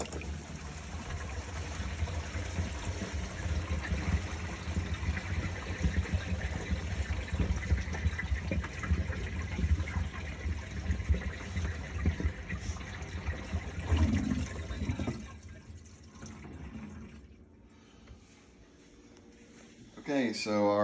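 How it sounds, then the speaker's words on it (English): Water draining from a filled kitchen sink after a clogged garbage disposal repair, a steady rushing gurgle that runs loud and even, then thins out and stops near the end, leaving quiet with a few faint trickles. "we're now ready to release the water and check for leaks again"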